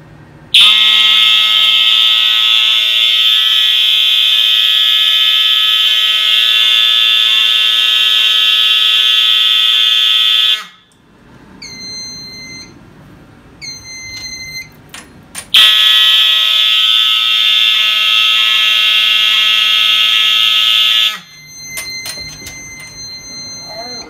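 Fire alarm system sounding during a drill test: a loud, piercing continuous tone blares for about ten seconds, drops to quieter intermittent tones, then blares again for several seconds before another quieter patch.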